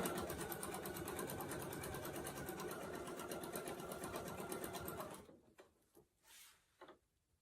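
A sewing machine quilting runs steadily and rapidly for about five seconds, then stops, leaving a few soft clicks and handling sounds.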